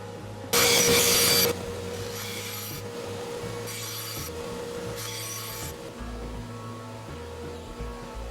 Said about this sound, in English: I continue cutting the rest of the strips.